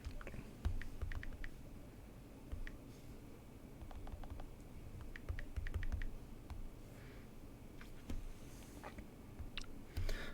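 Numbers for a six-digit verification code are typed on a computer keyboard, with soft, quiet, irregular key clicks in short bursts over a low background hiss.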